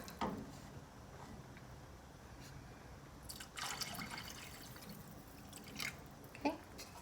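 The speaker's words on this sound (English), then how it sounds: "And then you're gonna need 1 quart, which is 4 cups of water." Four cups of water are poured into a pot of albondigas soup on a home stove, heard as a faint, brief splashing run of liquid in a quiet kitchen with a few small clinks around it.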